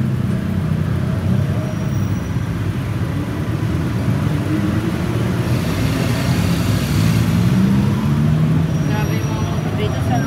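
Busy street traffic in Thailand with motorbikes, a dense continuous rumble of engines and passing vehicles close by, steady and loud throughout.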